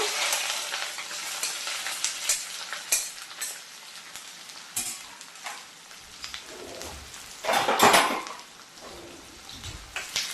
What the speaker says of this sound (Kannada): ಈಗ ಒಂದು ದೊಡ್ಡ ಈರುಳ್ಳಿಯನ್ನು ಚಿಕ್ಕದಾಗಿ ಕಟ್ ಮಾಡಿ ಇಟ್ಕೊಂಡಿದ್ದೆ, ಎಳೆ ಎಳೆಯಾಗಿ ಕಟ್ ಮಾಡಿ ಇಟ್ಕೊಂಡಿದ್ದೆ, ಅದನ್ನು ಹಾಕೊಳ್ತೀನಿ ನಾನೀಗ